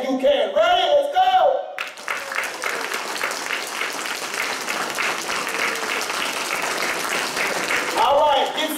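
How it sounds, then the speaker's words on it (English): A church congregation breaks into a strong, sustained round of applause and cheering that lasts several seconds. A voice speaks briefly before and after it. "I want you to give him the biggest round of applause that you can"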